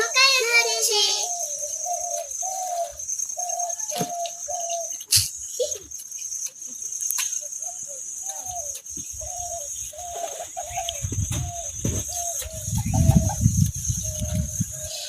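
Myna birds call with short, repeated whistling notes in a steady rhythm among green surroundings near a boat, clear and moderately close over a faint constant high drone, with a brief rustling near the end.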